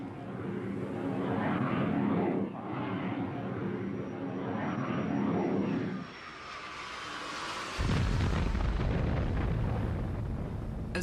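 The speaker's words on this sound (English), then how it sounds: "At 2 o'clock that afternoon, Israeli planes mounted an attack." Israeli military jets roar overhead in waves, then the sound gives way to a heavy, sustained explosive rumble as the attack hits, loud and close with no voices.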